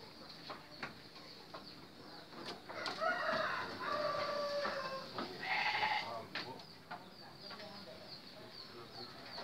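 Senduro goats bleating in a busy goat market, several overlapping calls rising over a murmur of people talking and background farm noise.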